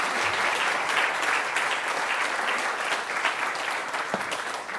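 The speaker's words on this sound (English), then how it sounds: "Let's give her a round of applause." An audience at a chamber of commerce membership meeting in a Hilton Guam function room claps for a speaker, a dense, steady round of applause that holds for several seconds and then begins to taper off.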